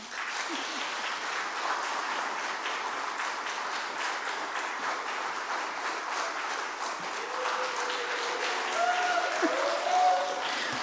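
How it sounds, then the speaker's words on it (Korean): Sustained applause from a church congregation welcoming a pastor to the pulpit at a Korean worship service, steady dense clapping filling the room for about eleven seconds, with a few faint voices and tones near the end. "환영과 응원의 큰 박수를"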